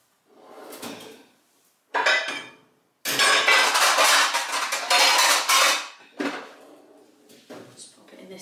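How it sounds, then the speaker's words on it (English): A stuffed butternut squash is set down into a roasting tin with loud metallic clatter and clunks, several bursts of handling noise with short pauses between them. "It's going to go into a roasting tin."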